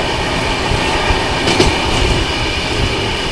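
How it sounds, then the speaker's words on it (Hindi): A passing train overtakes the Kota Etawah Express on the adjacent line near Fatehabad, heard as a steady rumble of wheels and rail noise throughout, with a brief louder surge of clatter midway. "देखो बगल में कोई गाड़ी को ओवरटेक कर रहे हैं जो कि आगरा वाली लाइन से आ रही थी वाया फतेहाबाद"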